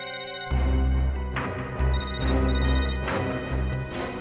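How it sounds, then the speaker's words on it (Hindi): A mobile phone rings nearby with a repeating electronic ringtone in regular bursts. The loud, steady tone carries through the whole stretch with no talk over it. "1 मिनट, रिंग यहीं पर बज रही है कहीं।"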